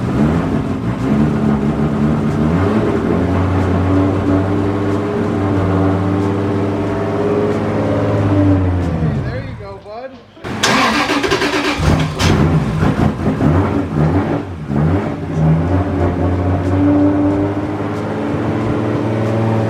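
A freshly built Toyota 1.5JZ engine runs on its first start with a loud, steady drone. It drops away briefly partway through, then returns rougher and more varied.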